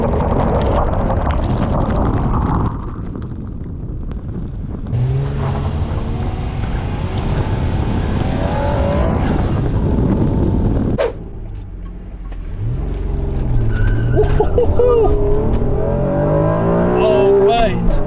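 A 1991 Honda NSX engine revs hard and accelerates in surging waves. It's loud and close from inside the car, with a break between pulls, and someone talks over part of it.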